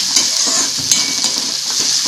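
Onion sautéing in a pan for a Maharashtrian peanut mhadya dish: a steady close sizzle with soft stirring scrapes throughout, no talking.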